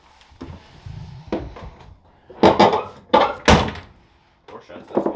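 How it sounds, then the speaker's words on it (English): A Ford Mustang barn find's car door is opened and shut, giving several heavy, close thunks and clunks with some rattling in between. "Door shuts, that's good."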